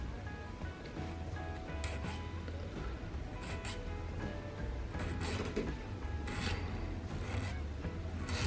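Scraping and rasping of someone cleaning the tip of a wire letter by hand, a steady close grinding friction with brief brighter bursts over a low background hum.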